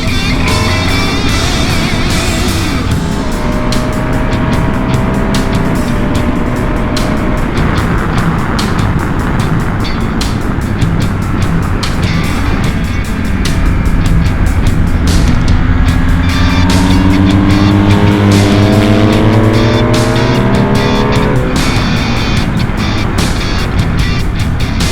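A BMW maxi-enduro motorcycle laps a race track at high speed, its engine a loud, constant close roar with rising and falling pitch sweeps through gear changes and corners.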